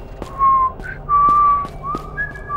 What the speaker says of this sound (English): I was whistling first.